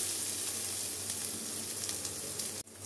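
Steady close sizzling and frying of pointed gourd peel with coconut in a pan, a constant hiss with faint scraping stirs, cutting off abruptly near the end.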